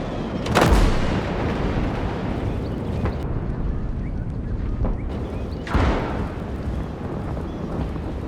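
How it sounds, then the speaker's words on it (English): A 38cm Sturmmörser shell explodes in Call to Arms - Gates of Hell, a sharp booming blast followed by a rumbling roll, then a second heavy explosion a few seconds later amid ongoing battlefield rumble. "I'm also going to demonstrate with the 38cm Sturmmorser to demonstrate how not only does the explosion affect the tanks"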